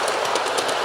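LGB large-scale model trains rolling along their track, a steady close rattling hum with faint rhythmic clicks running continuously, no voices.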